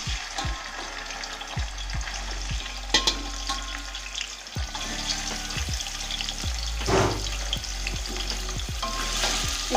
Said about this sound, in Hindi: अब हम गोश्त को फ्राई कर लेंगे।